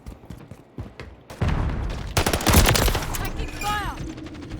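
Bursts of automatic gunfire from a Call of Duty Modern Warfare 3 match, loud and dense, with rapid volleys and booms layered over game effects and a voice talking early on.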